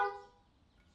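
Car horn honking outside a home, a single short toot that cuts off quickly and fades into quiet room noise.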